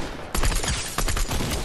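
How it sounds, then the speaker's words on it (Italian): Rapid bursts of gunfire ring out in a Fortnite match, several close, dense volleys rattling one after another with no talking over them. "Sì, però mi stanno sparando pure da dietro."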